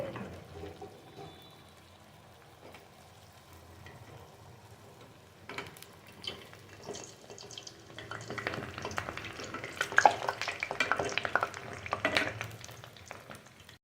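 Garelu, lentil fritters made as a temple offering, fry in hot oil. The sizzle is faint at first, then builds into a louder, crackling bubble with scattered clicks near the end.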